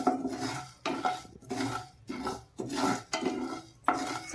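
Cumin seeds roast in a pan while a spoon stirs them in about six rhythmic scraping strokes with short pauses between, close and fairly quiet, with no talking.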